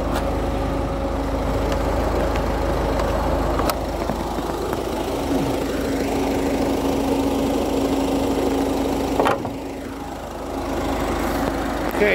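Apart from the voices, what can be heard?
diesel car engine idling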